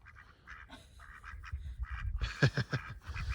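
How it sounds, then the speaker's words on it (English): White Pekin ducks quack nearby in a small group, soft calls at first and then a louder burst of several quick quacks. "White Pekin ducks."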